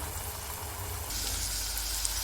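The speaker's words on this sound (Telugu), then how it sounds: "ఇప్పుడు ముందుగా రెడీ చేసి పెట్టుకున్న టమాటో ప్యూరీని యాడ్ చేసుకోండి. ఒక 5 minutes బాగా ఫ్రై చేయండి." Tomato puree frying in a pan for a chole masala curry with curry leaves, a steady broadband sizzle that grows louder partway through, close and continuous with no talking.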